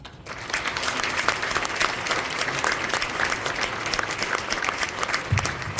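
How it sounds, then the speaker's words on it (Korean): A church general assembly audience claps in sustained, even applause from start to finish, a dense roomful of hands at steady loudness. "위로의 박수 다시 한번 주시기 바랍니다"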